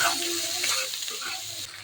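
An egg cooks alongside chopped vegetables in a pan for chowmein, giving a soft, fairly quiet sizzle with light stirring scrapes close by, plus a brief quieter stretch near the end.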